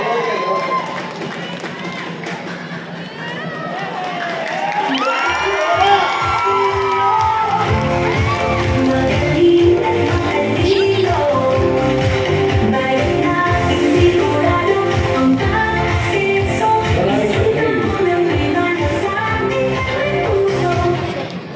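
A crowd claps and cheers at a live event, rhythmic applause swelling loudly after a speaking voice and holding steady with shouts and whoops mixed in.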